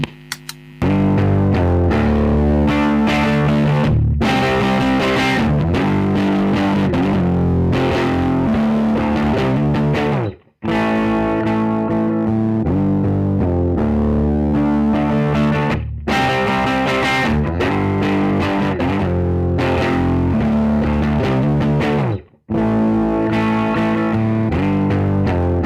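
Electric guitar played through a faulty tagboard-built Timmy overdrive pedal, giving a loud, continuous distorted tone with sustained chords and riffs in several phrases separated by brief pauses, no voices.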